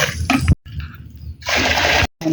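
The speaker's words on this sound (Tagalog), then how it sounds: "Lalagyan lang niya ng mainit na tubig." Hot water poured over pili fruit, short bursts of splashing liquid separated by brief silences, close and fairly loud.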